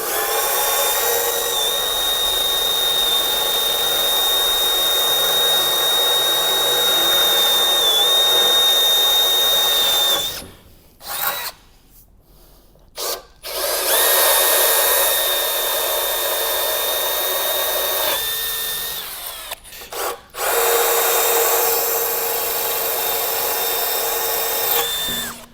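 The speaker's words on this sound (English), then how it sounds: "we're going to want to drill in this piece of slate" A power drill boring into pool table slate, whining loudly and steadily in long runs, with pauses where the motor stops and restarts near the middle and again later.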